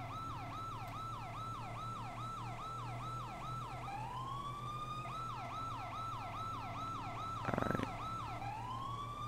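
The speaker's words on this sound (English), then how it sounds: "Really loving the siren, by the way." Police car siren from the GTA V video game wails in a rapid, continuous yelp cycle, switching briefly to a slower wail, over a steady engine drone, loud and close with no talking.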